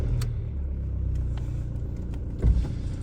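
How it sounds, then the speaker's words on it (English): A 2004 Volkswagen Jetta turbo diesel with a four-speed automatic transmission hums with a low, steady engine rumble from inside the cabin during a test drive, with a brief thump near the end. "So this car is diesel, so expecting some loud noise."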